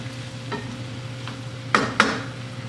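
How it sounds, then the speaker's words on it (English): A spoon stirs onion and potato soup in a pot, giving a couple of sharp scrapes near the end over a low steady simmer hum, with one softer knock earlier; no one talks. "Mix it around"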